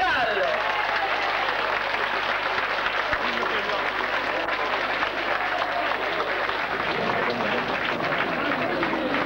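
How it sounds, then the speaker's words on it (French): Sustained, dense applause from a large standing crowd honoring the president of Senegal, loud and continuous throughout with voices mixed into the clapping. "S'il vous plaît, levez et applaudissez le président de la République du Sénégal."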